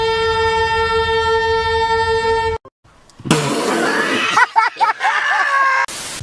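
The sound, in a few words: train horn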